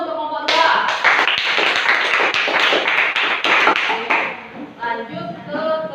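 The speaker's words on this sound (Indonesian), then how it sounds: "Tepuk tangan dulu untuk kelompok 2." A classroom audience applauds a student group after its presentation, a dense burst of many clapping hands that holds steady for several seconds, then thins to a few scattered claps with murmuring voices at the end.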